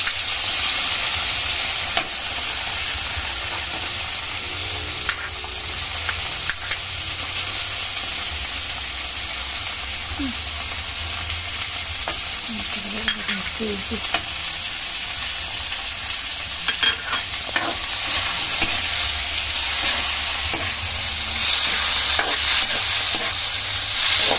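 Tomatoes sauté in a frying pan with a loud, continuous sizzle and crackle, with occasional scrapes and taps of stirring over about twenty seconds and no voices.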